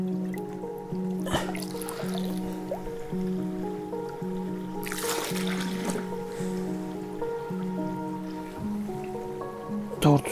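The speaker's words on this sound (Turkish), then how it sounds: "Çay suyunu dereden alıyoruz." Water drawn by hand from a clean, sediment-free mountain stream for camp tea, with soft dripping and splashing and one brief louder pour midway over a steady tonal hum.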